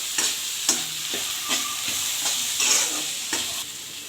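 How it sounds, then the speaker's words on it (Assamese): Onions frying in a pan with ginger, garlic and chili paste, stirred with a utensil in repeated scraping strokes over a steady sizzle, close and alone. "ভাজি লৈছোঁ, মিক্স কৰি লৈছোঁ পিঁয়াজখিনিৰ লগত।"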